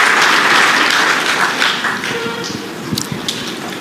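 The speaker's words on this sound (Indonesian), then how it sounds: "Boleh kasih tepuk tangan buat para worship leaders, choir, dancers, musicians." Audience clapping for worship leaders, choir, dancers and musicians at a church service, loud and dense at first, then thinning into scattered individual claps and taps toward the end.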